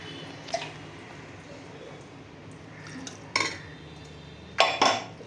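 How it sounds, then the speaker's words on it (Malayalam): A mixer grinder jar is washed in a kitchen, with bursts of running water, clinks and knocks of the jar against dishes separated by quiet gaps. "മിക്സി ഒന്ന് കഴുകിയെടുക്കട്ടെ"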